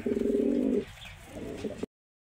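Pigeons of fancy breeds kept for sale coo steadily and close at hand in a loud, rolling burst lasting nearly a second, then a softer stretch of rustling and quieter coos before the sound stops abruptly.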